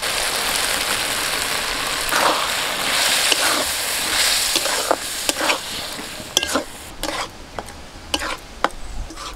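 Dal poured into a banana flower mixture sizzling and frying in a pan, a continuous hiss broken by sharp scraping and stirring clicks that grow more frequent toward the end.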